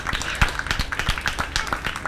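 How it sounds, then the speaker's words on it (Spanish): Audience clapping for two groups at a kids' contest event in a McDonald's, a quick burst of dense, close hand claps with uneven rhythm. "¡ese aplauso a los dos grupos!"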